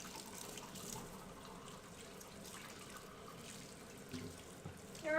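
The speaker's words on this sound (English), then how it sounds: "Alright, pouring the drink in." A homemade strawberry rose and hibiscus boba tea drink is poured into a cup as a faint, quiet liquid trickle against low room noise.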